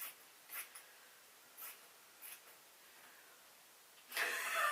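Scissors cut folded fabric for dress sleeves in a few short, soft, quiet snips spaced apart, then a louder rustling cut at the end.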